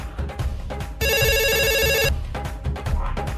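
A telephone rings loudly in a burst of about a second over ongoing conversation in a busy government office, with voices talking before and after the ring.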